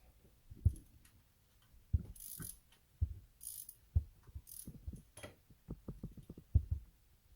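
A ratchet wrench clicks in short bursts while bolts are turned on a 2006 Dodge Charger 5.7 Hemi engine during cam replacement reassembly, with sharp, close pawl clicks in irregular runs and brief pauses, some louder knocks and a few faint higher clinks.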